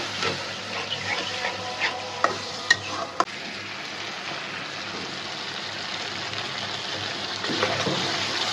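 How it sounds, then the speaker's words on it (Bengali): Spice masala with salt, cumin and garam masala stir-fried in a pan with a little water, sizzling steadily throughout, with a few sharp utensil clinks near the start. "দেখেন আমাদের মশলাটা কত সুন্দর করে কষে নিয়ে গেছে"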